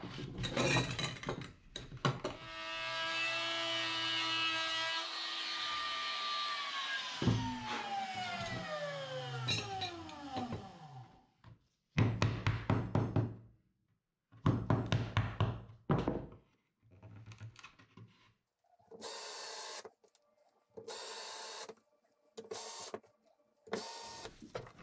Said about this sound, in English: That was inset into the plywood using a straight bit in my trim router.